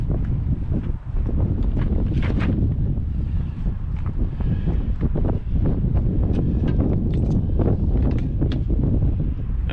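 Strong wind buffets the microphone outdoors during a van repair job, a loud, steady rumbling roar with gusty surges throughout and no talking.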